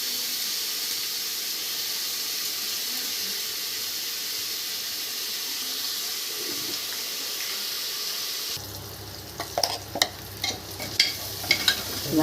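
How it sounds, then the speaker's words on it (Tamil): Chopped onion and green chilli sauté in oil with a steady sizzle for most of the stretch, then a louder burst of stirring brings scraping spoon clatter near the end. "வெங்காயம் நல்லா வதங்கிடுச்சு."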